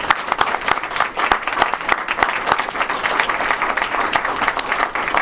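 An audience at a panel discussion on Kenya and the ICC applauds the panelists, a loud, dense, sustained burst of clapping with no talk over it.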